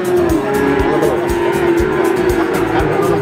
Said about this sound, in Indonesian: Nah, sapi limusin.